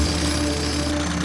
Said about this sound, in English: Looks like get your electric jackhammers out,